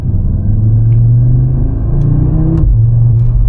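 Audi RS3 facelift with 400 hp five-cylinder and seven-speed S tronic, engine revving through an early short shift, a steady loud cabin drone with a brief pitch drop at the gearchange.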